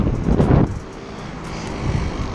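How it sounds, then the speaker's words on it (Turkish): A car approaching with a loud engine roar that swells close by early on, then settles into a lower, steadier rumble that lingers in the background. "arabanın geldiğini duydum."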